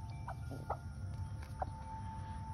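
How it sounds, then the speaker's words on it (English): A hen in a workshop gives several soft, short clucks, faint and close, over a steady low hum of background noise. "This is my shop chicken."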